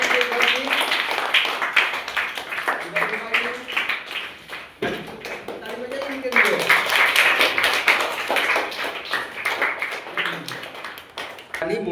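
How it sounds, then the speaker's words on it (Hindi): Students in a classroom clap together after a teacher prompts applause, a dense burst of hand claps mixed with voices and a teacher speaking throughout. "बना के ताली बजाइए सभी लोग।"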